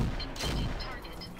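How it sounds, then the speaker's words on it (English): A BattleTech mech in the Roguetech game fires its autocannon and other weapons together. A short, fairly quiet burst of overlapping shots is followed by a dull rumble. "Pretty good chance with the AC, so we'll fire everything."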